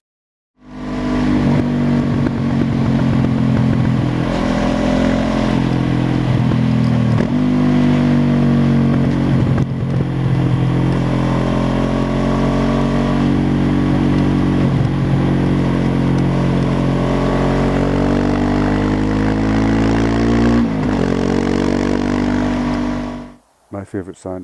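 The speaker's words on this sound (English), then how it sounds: "you also can hear the exhaust beautifully" Motorcycle exhaust captured from the pillion seat: a loud, continuous engine drone whose pitch rises and falls with repeated accelerations and gear changes, cutting off abruptly near the end.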